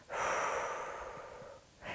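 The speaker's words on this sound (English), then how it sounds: "And if we do a longer out breath," A long, slow out breath during diaphragmatic breathing, one soft, steady exhale lasting over a second, close and quiet, with the start of the next breath at the end.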